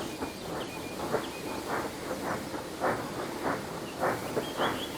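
A train shunting loaded wagons in a quarry, with faint, evenly spaced hissing chuffs and a thin high tone drifting above.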